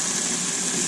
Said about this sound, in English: you're going to hear the dishwasher